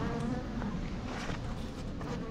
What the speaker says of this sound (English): looks like they got a full box of bees up here